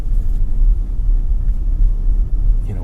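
Deep low rumble of a 2024 Nissan Patrol LE V8 engine while driving, heard from inside the cabin as a steady, loud drone with slight fluctuations and no voices.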